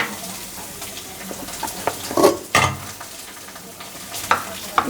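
Spice paste of fennel, fenugreek, cumin, ginger and coconut fried and stirred in a pan for chickpea dal, a steady sizzle with occasional scraping and stirring clatters, close and moderately loud, no voices.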